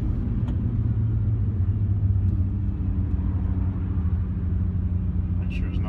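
A Nissan GT-R R35 pulls hard in second gear, its engine a deep, continuous rumble heard from inside the car, loud and steady with slight rises in pitch as it accelerates.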